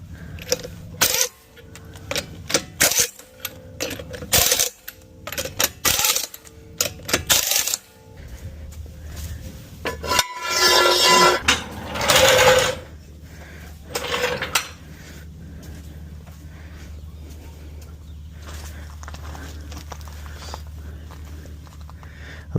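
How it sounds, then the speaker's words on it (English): Lug nuts on a car wheel are tightened after a lowering spring install, with metallic clicks, clanks and ratcheting bursts up close, followed by a quieter stretch of low background rumble. "Just gotta go ahead and tighten down the lug nuts."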